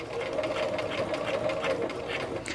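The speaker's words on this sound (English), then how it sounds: "So I'm sewing from the first dot to the second dot" A sewing machine stitches fabric for a raglan sleeve in a rapid, even mechanical chatter, close and continuous, with no talk.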